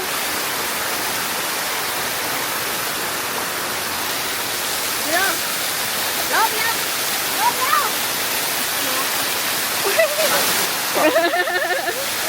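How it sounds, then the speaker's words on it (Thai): Waterfall pouring down from the mountain behind a secluded riverside homestead, a steady loud broadband rush filling the whole scene, with faint voices exclaiming over it now and then. "เออเป็นน้ำตกเลยอ่ะ"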